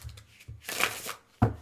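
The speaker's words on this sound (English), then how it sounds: "I feel like I need to do the other type of shuffle with this too" Quick riffle shuffles of an Osho Zen Tarot deck, a few short papery bursts with brief pauses between them and a sharper final snap, close and fairly quiet.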